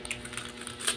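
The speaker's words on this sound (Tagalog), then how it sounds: "Ito yung aking dating keyboard." Rapid clicking keystrokes on an old retro-style computer keyboard with lighted keys, a steady patter of close, moderately quiet taps with no voices.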